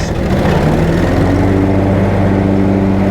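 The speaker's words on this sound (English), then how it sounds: "I'm gonna go ahead and dial back here and start those blades for you so you can hear just exactly how that sounds" A John Deere Z920 zero-turn mower engine runs loud and close, and a rising whine builds in as the cutting blades engage. The drone is steady with no talking.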